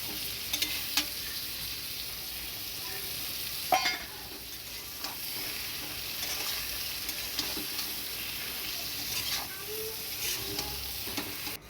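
Eggplant, ridge gourd and green chillies being stirred in a pan with a little water: a soft continuous sizzle broken by intermittent scraping strokes of a spatula, with no talking.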